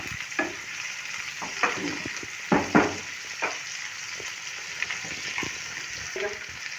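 Onions and carrots fry in a pan, a soft continuous sizzle broken by several sharp scraping stirs and clinks spread across the few seconds, close and fairly quiet.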